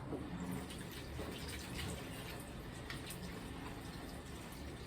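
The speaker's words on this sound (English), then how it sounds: "you gotta rinse the soap out." Running water rinsing soapy laundry in a hotel sink, a steady close splashing wash with no talking over it.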